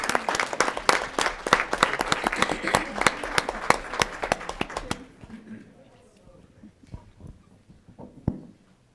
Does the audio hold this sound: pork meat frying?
no